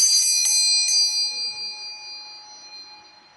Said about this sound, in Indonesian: dengan ditandai bunyi lonceng berbunyi